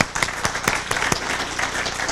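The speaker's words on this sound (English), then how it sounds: "A little round of applause for John." An audience's round of applause for John DeCamp at a Johnny Gosch Foundation event, steady dense clapping at moderate volume lasting a couple of seconds with a little voice underneath.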